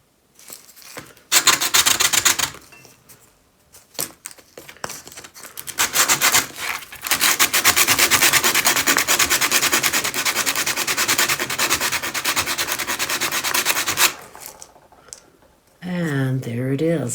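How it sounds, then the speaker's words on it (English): A gourd top being sanded with coarse 60 grit sandpaper, with fast, rhythmic, raspy scraping that runs loud and steady for several seconds, briefly pausing and resuming, and a voice speaking near the end. "low grit, 60, and I'm going to start with that. And I'm just looking to get the top nice and smooth."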